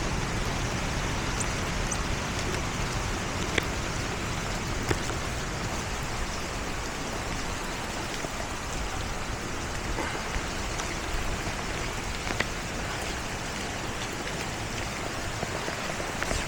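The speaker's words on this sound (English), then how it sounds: "It's raining." Steady outdoor rainfall patters continuously with a dense, even hiss and scattered drop ticks, holding at a constant level throughout with no voices.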